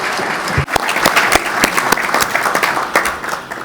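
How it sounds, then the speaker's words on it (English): Delegates at a FIBA Ordinary Congress plenary session applaud together to approve a report, a dense, sustained clapping from a large indoor audience with sharp individual claps standing out. "I think we can vote by clapping."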